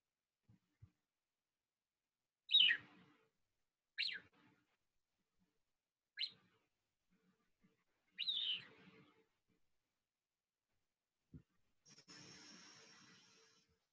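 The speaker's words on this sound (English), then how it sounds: "the sound that the cub makes is a chirping sound" A mountain lion cub gives a series of sharp, high chirps, about five separate calls spaced a couple of seconds apart, faint and isolated against near silence with a few soft rustles.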